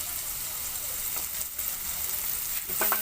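Ground spices such as red chilli, turmeric and coriander powder frying in a pan for masala Maggi, a close, steady sizzle with stirring scrapes and a few clinks near the end.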